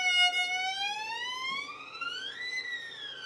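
A violin slides its pitch smoothly upward like a siren, one continuous bowed glissando on the second finger that rises, peaks and dips slightly, played alone and clear.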